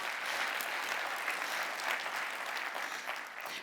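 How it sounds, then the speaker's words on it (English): Applause from a developer keynote audience fills the hall with dense, continuous clapping at a moderate, slightly distant level, holding steady for a few seconds. "Yeah, applause for that one."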